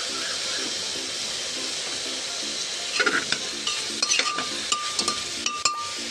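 Bottle gourd frying in a pan with whole cumin seeds and grated ginger, a continuous close sizzle with light clinks and scrapes of a spoon stirring in the second half, no voices.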